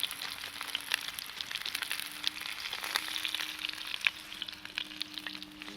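Meat frying in a kazan for kebab outdoors, a steady dense sizzle and crackle at moderate level, with occasional stirring scrapes and no talk.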